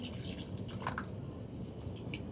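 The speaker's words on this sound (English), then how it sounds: "So here I'm adding some water." Water trickles and drips into a pot of pot roast beef, a faint soft splashing with a few brighter droplet sounds over low background rumble.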